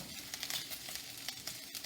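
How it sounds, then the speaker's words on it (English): Stock for paella boiling in pots on a stove, a steady close bubbling crackle with soft pops scattered through it and no voices. "I've had my my stocks boiling here for the 5 minutes."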